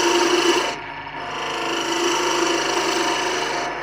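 A Record Power DML250 wood lathe cutting a cove into spinning wood gives a loud, continuous rasping scrape that briefly eases, then settles into a steady grinding cut.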